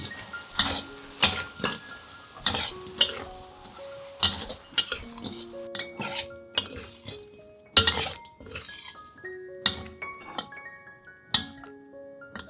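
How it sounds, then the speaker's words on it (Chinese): Utensils scrape and clink against a metal wok in quick irregular strokes while fried abalone mushrooms toss, a faint sizzle underneath. "最后放入炸好的鲍鱼菇，翻炒均匀"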